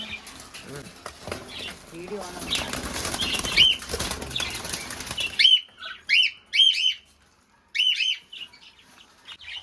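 Pet cockatiels flap their wings after being let out of a cage at home, a busy fluttering under talk at first, then sharp chirps and calls in separate bursts with brief gaps.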